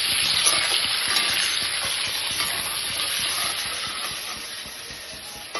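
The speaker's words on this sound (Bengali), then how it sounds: "ভাজা হয়ে গেছে, এখন আমি আলুগুলোকে এই যে তুলে নিচ্ছি।" Potatoes fry in a pan with a loud, continuous sizzle and hiss that runs steadily throughout, with light stirring scrapes now and then and no talking.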